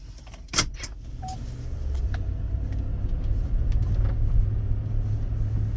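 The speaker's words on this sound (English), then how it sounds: "So I'm going to drive it now and see what it feels like" An SUV being driven with a steady low engine and road rumble building after a brief mechanical thump near the start, with faint clicks and rattles inside the cabin and no talking.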